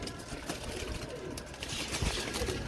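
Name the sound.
Teddy breeder pigeons cooing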